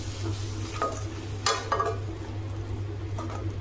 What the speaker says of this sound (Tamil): அந்த உருண்டையை கரைச்சி இதில் கொஞ்சம் ஊற்றி கிளறி விட்டுக்கலாம்